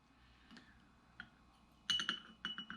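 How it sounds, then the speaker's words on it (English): Isopropyl alcohol is poured carefully from a tablespoon into a glass of DNA-extraction solution, giving faint glassy clinks and light trickling taps, with a brief louder cluster of clinks near the end. "then very carefully pour that into my solution here"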